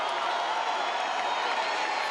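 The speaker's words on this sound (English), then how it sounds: "Lively capacity crowd roaring the Toronto Wolfpack on" Capacity crowd at a 2019 rugby league playoff between Toronto Wolfpack and Featherstone roaring the home side on, a dense, continuous wash of stadium noise with no breaks.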